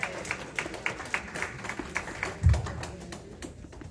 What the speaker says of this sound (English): Clap your hand and give God praise